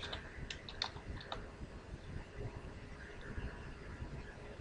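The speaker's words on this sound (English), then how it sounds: "Just type it in." Typing on a computer keyboard while playing Minecraft: quiet, scattered key clicks in short bursts over a soft background hiss.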